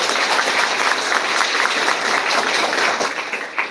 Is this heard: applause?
yes